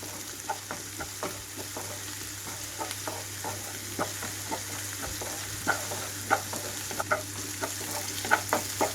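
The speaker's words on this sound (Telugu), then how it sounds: "ఇక్కడ పేస్ట్ కూడా వేగిపోవాలి పచ్చి వాసన లేకుండా" Ginger garlic paste fries with onions in a pan for an aloo chikkudukaya curry, a steady low sizzle broken by frequent sharp pops and stirring scrapes, with no voices.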